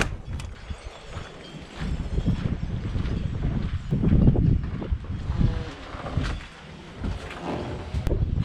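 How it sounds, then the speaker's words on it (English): Strong wind buffets the microphone outdoors, a loud rumbling roar that gusts and swells irregularly, with no voices. "just because it's so windy right now"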